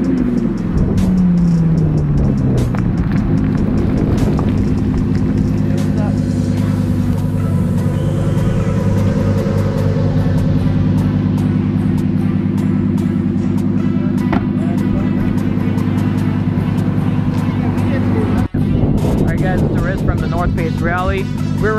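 A Lamborghini Huracan Performante engine droning while driving, a loud, steady, tonal roar with one pitch dropping early on and then holding, plus a brief knock near the end.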